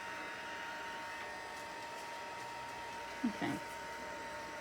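A steady, even whir of a hair dryer blowing continuously to dry stamped paper, with a short spoken word near the end.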